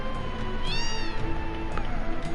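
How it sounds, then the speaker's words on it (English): In the Final Fantasy 7 video game, a cat gives a clear, drawn-out meow over steady background game music, close and moderately loud, with no talking. "Get that cat out of the way."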